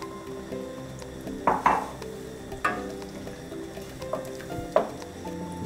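Heavy whipping cream is stirred into pappardelle pasta and tomato sauce with bacon and peas in a pan, giving a soft sizzle under irregular scraping and clinks of a utensil against the pan.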